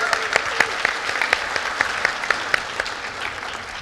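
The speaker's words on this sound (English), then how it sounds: "Let's give Shelby another round of applause." An audience at an agentic AI and automation event gives a round of applause, a moderate wash of clapping with a few sharp individual claps standing out in a loose rhythm.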